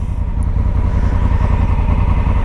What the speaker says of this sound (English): so that's Linda on a Triumph